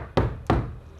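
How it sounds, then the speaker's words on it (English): Two dull, deep knocks land on a sound-deadened body panel of a Toyota Coaster van, each a short damped thump without rattle, about a third of a second apart. "So it's more of a thump, and it's not going to rattle when we're driving."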